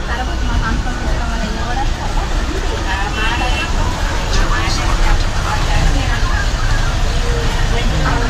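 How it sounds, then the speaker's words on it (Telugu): Inside a moving Jolapalem bus, a continuous engine and road drone fills the cabin while passengers chatter in the background throughout. "మనం జోలపాలెం బస్సులో ప్రయాణం చేస్తున్నాం అంతేగా"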